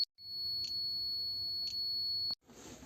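An ignition coil tester tool emits a steady high-pitched electronic beep lasting about two seconds, clear and close, then cuts off abruptly.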